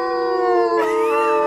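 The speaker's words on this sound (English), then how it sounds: "Nice group howl, everybody." Several wolves in the video game WolfQuest howl together, a loud sustained chorus of long overlapping tones, one voice sliding upward partway through, close and without talk.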